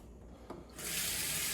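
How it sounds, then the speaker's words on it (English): A kitchen faucet feeding an Aquatonic AQ 500 water ionizer turns on with a faint click, then gives a steady, close hiss of running water that fills the rest of the moment. "I'm going to turn on the faucet and let it run for a while."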